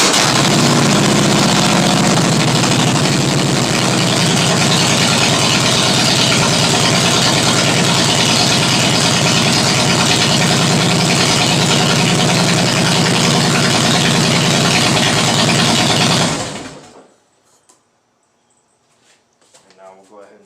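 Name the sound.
Harley Davidson Softail Heritage motorcycle engine starting and idling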